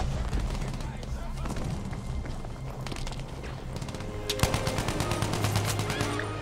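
Jungle carbine gunfire in a Battlefield 5 hardcore match, heard as a run of sharp, evenly spaced shots in the last couple of seconds after a stretch of quieter, busy combat noise, fairly distant and moderate in level.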